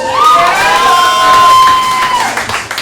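A comedy show audience cheers loudly with shouts and whoops, and a high, sustained voice carries over the crowd noise for a couple of seconds.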